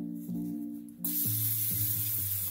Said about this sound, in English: Pam non-stick cooking spray.